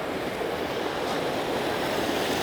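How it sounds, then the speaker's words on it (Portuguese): A small creek flowing out of Lake Louise in Banff makes a steady, close, rushing wash of water, continuous and even without pauses or voices. "É a água que sai do lago, passa aqui."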